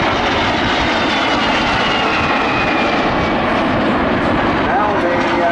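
Vintage MiG-15 and de Havilland Vampire jets fly a pair demonstration at the 2018 Southport airshow, giving a loud, steady broadband jet roar that holds throughout, with a commentator talking over the public address.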